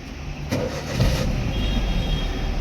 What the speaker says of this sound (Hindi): गाड़ी पहले चालू करो, पावर स्टीयरिंग है, चालू कर दो